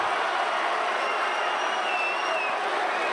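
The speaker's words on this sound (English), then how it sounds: "the crowd are calling for Ippon" Dense roar of a judo crowd at a European club championship final, calling for an ippon, heard as a constant loud wash of voices and clapping with a few whistles rising above it.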